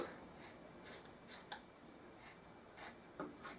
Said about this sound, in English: Now you can either use scissors, if you've got some sharp scissors.